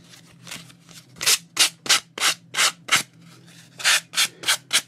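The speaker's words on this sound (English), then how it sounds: "sand around, and that will give it a nice rough edge" Sanding strokes rubbed around the edges of paper to rough them up for gelli plate backgrounds, about ten distinct close rasping passes in a steady rhythm over a faint low hum, with no talking.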